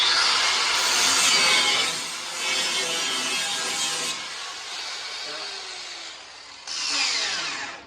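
A power saw cuts through the sheet metal of a 1968 Firebird or Camaro outer fender well, a loud harsh grinding whine that shifts pitch as the blade bites, pauses briefly, then resumes close up.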